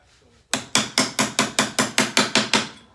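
A hammer strikes a small metal lock nut in a steady run of about ten sharp, ringing blows, close and loud, each hit decaying briefly before the next.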